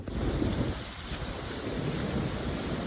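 A severe thunderstorm brings steady rain and wind buffeting the microphone, with a low rumble of thunder running under the constant roar outdoors near trees.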